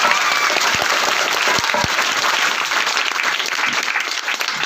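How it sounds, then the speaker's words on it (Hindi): An audience at a Teacher's Day function bursts into loud, sustained applause, dense clapping continuing evenly for several seconds. "जोरदार ताली बजाओ।"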